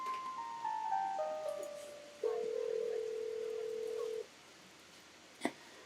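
A phone is dialed in the video game Scarlet Hollow: a quick run of descending electronic tones is followed by one long steady tone that cuts off, then a short click, all fairly quiet.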